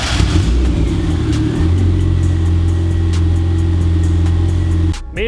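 Car with a built high-compression turbocharged 1.6L engine pulling away, a loud close rumble that deepens and steadies as it moves off, ending with a brief clunk.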